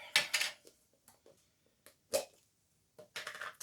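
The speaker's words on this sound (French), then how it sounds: "je vais mélanger la modeling paste" Small wooden sticks scrape and tap against a container while stirring modeling paste, with brief soft clicks and rasps separated by quiet gaps, close and faint.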